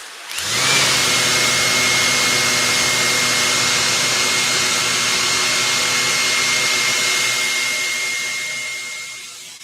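A Maxflow DDM pump kicks on sharply and builds to pressure, then holds a loud, steady motor whine with a high tonal edge before slowly tapering off at the end.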